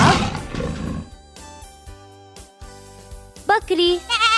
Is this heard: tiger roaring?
yes